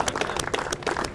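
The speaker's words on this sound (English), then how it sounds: "Let's give them a big round of applause." Audience applause at a Court Square project update event, a short, quiet burst of scattered clapping with irregular broadband claps throughout.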